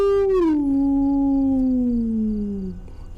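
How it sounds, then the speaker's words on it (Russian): A dog in the horror video game Fears of Fathom lets out a single long, mournful howl that slides slowly downward in pitch and fades out, loud and alone. "собака"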